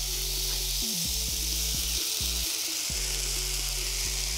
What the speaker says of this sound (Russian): И выложим на нашу блинную сковородку.